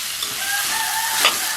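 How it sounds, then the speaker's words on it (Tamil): Ash gourd sautés in hot oil in a pan for a Jaffna ash gourd curry, giving a steady, loud, close sizzle with no break and a brief louder crackle near the end. "இது நல்லா அடி மட்டும் நல்லா கிளறி இந்த எண்ணெயில் வதங்குறதுக்கு கொஞ்சம் நேரம் விடுவோம்."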